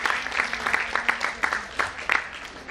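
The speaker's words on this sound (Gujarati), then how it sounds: "ખૂબ ખૂબ તાળીઓથી તેઓને વધાવીએ" Audience at an NRI marriage awareness seminar clapping, a short burst of scattered applause with distinct individual claps over a faint voice, moderately near.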